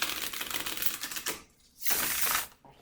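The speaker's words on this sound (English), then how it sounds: "We're going to do one more shuffle." A deck of tarot cards being shuffled during a reading, a dense rapid riffle of papery clicks in two bursts separated by a short pause, fairly close and quiet with no talking.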